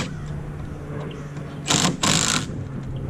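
Longer screws driven into 2x4 boards with a power drill for a human foosball frame: two short, loud whirring bursts close by, separated by a brief pause, over quiet background.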